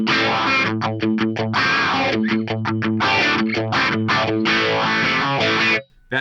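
Electric guitar through the orange phaser effect on a Headrush Prime, a distorted chord riff with rhythmic chopped stabs and a sweeping swirl, loud and continuous before stopping abruptly near the end.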